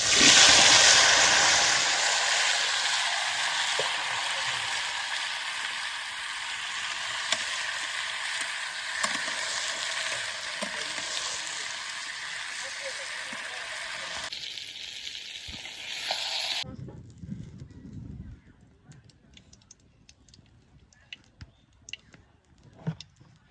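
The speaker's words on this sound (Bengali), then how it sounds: "তো এই যে কড়াইতে আমি তেল দিয়ে দিছি আগে। এখন বেগুনগুলো দিয়ে দিলাম।" Eggplant pieces dropped into hot oil in a wok give a loud, close, rushing sizzle that slowly fades over about fifteen seconds before cutting to quieter clicks and kitchen noise.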